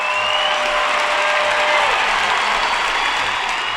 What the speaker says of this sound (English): The crowd is on its feet at Parkview Field, and the TinCaps have the lead